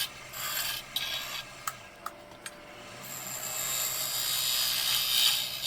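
A woodturning tool being sharpened: a steady abrasive rasping hiss, interrupted by a few sharp clicks early on, then a continuous grinding rub that runs unbroken through the rest.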